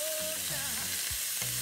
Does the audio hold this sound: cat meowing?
no